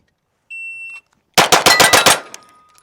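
An EAA Girsan Witness 2311 Match pistol fires a quick string of about six loud, sharp shots in fast succession, preceded by a brief electronic beep from a shot timer.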